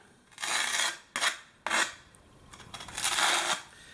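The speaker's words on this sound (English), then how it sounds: "I'm going to back butter the tile with the flat side of the trowel just to fill in that pattern" A steel trowel's flat side spreads mortar across the back of a tile, filling the notched pattern, in a few scraping strokes of about half a second each with short pauses between, close and fairly loud with no talk.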